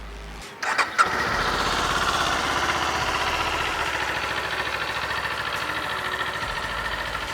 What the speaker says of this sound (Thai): เรามาสตาร์ทเครื่องกัน